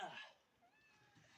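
A house cat meows once, a short faint mew near the start, in a quiet room on a farm, with a soft hum behind it.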